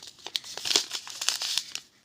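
A small plastic packet of garden fertilizer is crinkled and handled close by, giving a quick run of sharp crackling rustles over about two seconds, with no speech.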